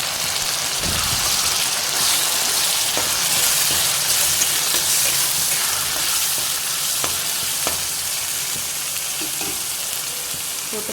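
Ginger garlic paste and onions saute in a pan for a mint chicken dish, giving a dense, steady sizzle with occasional stirring clicks and scrapes up close, and no one speaking.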